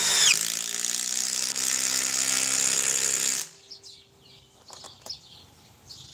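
A Bosch cordless power drill spins with a bright, steady whine for about three seconds, close and loud, then stops abruptly, leaving faint clicks and handling noises.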